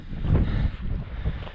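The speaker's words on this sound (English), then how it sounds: "That wind is gusting up these cliffs like crazy." Strong wind gusts up canyon cliffs above Red's Canyon in winter, loud low buffeting on the microphone that surges and dips unevenly with no talk.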